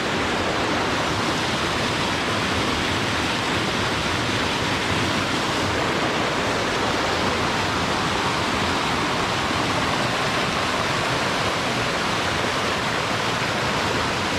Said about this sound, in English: The cascades along the creek here are very pretty.